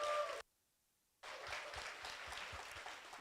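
Applause for mentors at a tech and innovation internship showcase, starting abruptly after a short silence and continuing as a steady patter of many hands.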